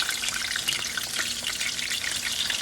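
Meatballs frying and crisping in a hot pan give off a steady, dense sizzle that stays at an even level throughout, with no talking.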